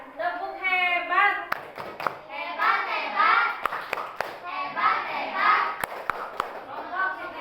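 A class of children in an Islamic education lesson performs a patterned clapping cheer, with sharp, rhythmic hand claps cutting through lively children's chanting and voices close by.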